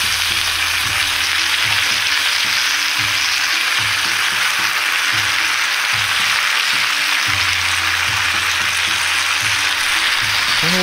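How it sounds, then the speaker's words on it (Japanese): Loud, continuous sizzling and bubbling hiss as thick starchy sauce is poured over hot fried mochi rice cakes in a heated clay pot, with a low rhythmic rumble underneath and no voices. "その上からあんかけをかけていきます。"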